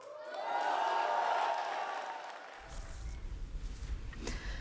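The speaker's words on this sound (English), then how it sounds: "please, give a big round of applause" A crowd at a political rally cheers and whoops, then breaks into scattered clapping, fairly faint and heard from a distance.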